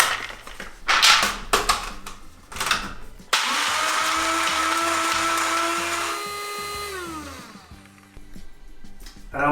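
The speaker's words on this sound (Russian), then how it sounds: "Пересыпаем в блендер и измельчаем до состояния муки." A kitchen blender grinds toasted almonds into flour, starting with a few short pulses and then running in a loud, steady whir for several seconds before winding down, with no talking.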